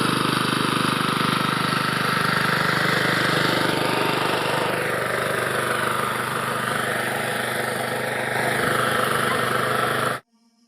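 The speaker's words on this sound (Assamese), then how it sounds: "এইফালে পূৰা ঘৰৰ ওচৰতে ট্ৰেক্টৰ বাই আছে, হাল বাই আছে।" A tractor engine runs steadily while ploughing a field right beside a house, a loud, continuous rumbling drone with no talk that cuts off abruptly near the end.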